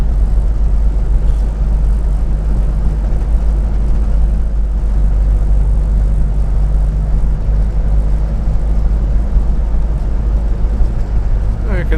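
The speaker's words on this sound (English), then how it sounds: "with this Herald convertible is you put the hood up, and bizarrely it's an awful lot noisier than it is with the hood down" Inside a Triumph Herald convertible with the hood up, a loud, constant low drone of engine and road noise booms around the enclosed cabin, close and unbroken throughout.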